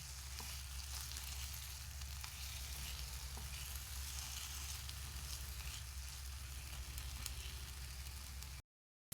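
Potatoes frying in a pan give off a steady, close sizzle with a constant crackling hiss that runs unbroken for about eight and a half seconds before cutting off, with no talking.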